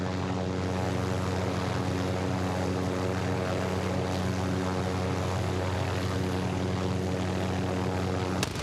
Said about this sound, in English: This chopper's almost dead, y'all.